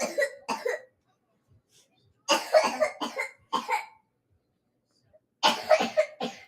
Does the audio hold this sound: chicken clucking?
no